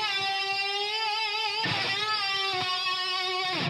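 Electric guitar playing sustained notes with deliberately exaggerated string bends, rich in harmonics, with a few fresh picked notes partway through and no talking.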